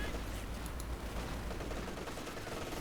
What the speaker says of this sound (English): That's a lot of fire coming down on them.